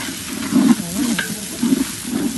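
Chicken pieces stirred with coriander powder in a hot pan, close scraping and stirring strokes over a soft sizzle, repeating in an uneven rhythm.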